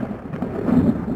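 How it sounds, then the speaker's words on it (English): Rain with a thunderstorm off in a valley: a low, rolling rumble of distant thunder swelling under a steady wash of rainfall, continuous and moderately loud, with no voices. "So, got a nice little thunderstorm off in the valley"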